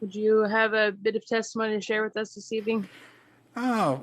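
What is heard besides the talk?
No everyday noise stands out behind the speech.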